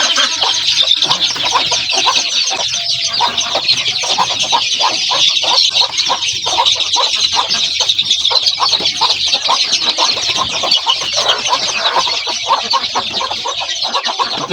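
Native chickens and chicks at a poultry seller in Madaripur make loud, close, unbroken peeping and clucking from many birds at once.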